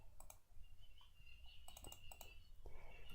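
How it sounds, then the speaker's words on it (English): Typing on a computer keyboard, with quick irregular bursts of close key clicks, a short pause, then more taps, over a faint steady background hum. "Let me type here for you so you see how to write that word."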